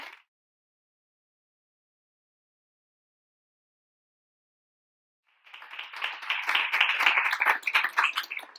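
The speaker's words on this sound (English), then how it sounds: "A big round of applause for them." An audience applauds panelists at a women's day panel event: a brief clap at the start, a long silence, then a burst of steady clapping that builds and continues.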